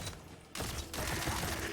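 Rapid gunfire from a weapon in the PC video game Tiny Tina's Wonderlands, quiet and dense, coming in two rattling bursts separated by a brief dip, with a mechanical, glitchy texture.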